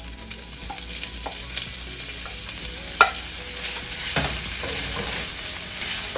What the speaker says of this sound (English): I'm going to leave this little bit in to help me brown the smoked sausage